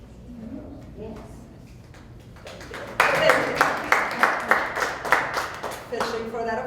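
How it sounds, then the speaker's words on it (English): Audience applause at a costumed talk about Molière: clapping breaks out suddenly after a quiet spoken stretch and continues loud and close in steady, rhythmic bursts. "Fishing for that applause"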